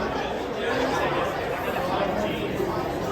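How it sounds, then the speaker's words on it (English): A large crowd chats at a Kennywood Park food preview event, a dense, steady indoor murmur of many overlapping voices, loud and close with no single voice standing out. "It's a large crowd, surprisingly large crowd."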